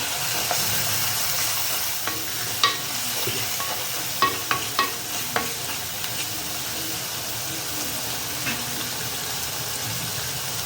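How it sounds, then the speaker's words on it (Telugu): Ginger garlic paste fries in a pan with a steady close sizzle and hiss, punctuated by several sharp clinks and scrapes of a spoon stirring against the metal, then settling into continuous frying. "అల్లం వెల్లిపాయ వేసానండి. దీంట్లో కాస్త పచ్చివాసన పోయే వరకు వేస్తాను."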